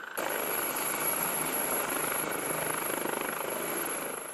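Armed army aviation helicopters fly over a maritime strike exercise, their rotors giving a loud, steady, unbroken drone that holds for the whole stretch with no voices.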